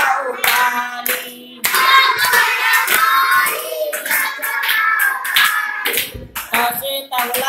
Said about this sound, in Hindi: बस बजाओ ताली